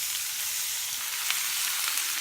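Roughly chopped oyster mushrooms sizzle steadily in a hot pan with aromatics, a continuous bright frying hiss with small crackles, close and fairly even with no talking.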